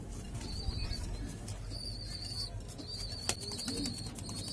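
A pigeon squab in the nest begs its parents for food with a few thin, high, squeaky peeps over a soft background of rustling and low cooing.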